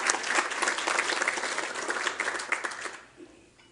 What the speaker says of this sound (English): Let's give the unsung heroes a round of applause